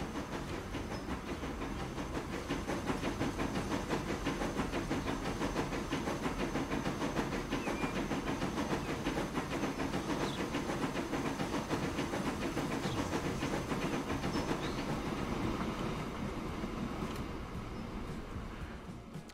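A train rolling along in Transport Fever 2, a steady hissing, rhythmic rail clatter held at an even level for most of the stretch before fading slightly at the end.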